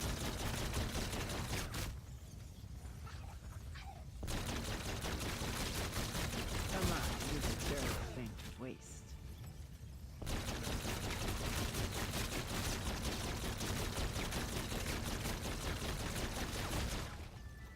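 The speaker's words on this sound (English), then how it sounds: "And then you basically just shoot him until he disappears." Sustained rapid gunfire pours at the Rat King boss in a zombies easter-egg round in front of the dojo, a near-continuous barrage with brief lulls and speech over parts of it.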